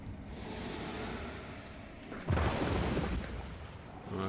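A single deep gunshot boom in Hunt: Showdown bursts out midway, followed by a rumbling decay over a low background hum.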